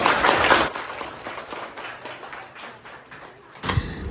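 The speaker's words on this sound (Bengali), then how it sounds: "বা খুব ভালো, হাততালি দাও সবাই।" Applause from a group of schoolchildren at a Teacher's Day celebration for a homemade cake, a burst of clapping at the start that thins to scattered claps, then swells again near the end.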